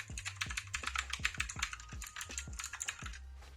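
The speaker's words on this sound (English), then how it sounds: "I'm actually looking to change my keyboard to a new one, but I still like it. Like, the sound is really nice." A computer keyboard used in a work-from-home setup is typed on in quick, steady bursts of crisp, close clicks and clacks. The keystrokes come at an even rhythm, with no voices.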